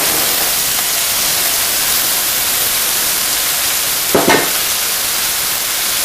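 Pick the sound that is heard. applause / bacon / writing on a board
bacon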